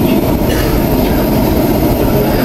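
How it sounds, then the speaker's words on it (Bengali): An underground metro train runs fast through a tunnel, giving a loud, continuous close rumble with a dense low roar and no pauses. "কিন্তু ট্রেন যায় একবারে গুলির মতো"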